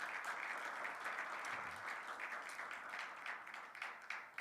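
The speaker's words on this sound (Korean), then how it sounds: "우리 수고하시고 너무나 고생하신 우리 목사님께 큰 박수로 축복하도록 하겠습니다" Church congregation at a Sunday youth worship service applauding together, a sustained, even wash of clapping that sounds fairly distant and soft throughout.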